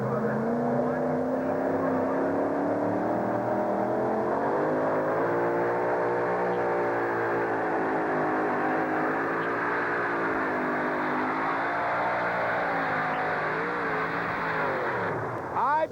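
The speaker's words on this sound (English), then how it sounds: "That Keith Black Hemi engine gets Power Play out the back door." A vehicle powered by a Keith Black Hemi engine makes a full pull at a two-wheel-drive truck pull, its engine roaring loud and steady with rising and falling harmonic tones throughout, swelling briefly at the very end.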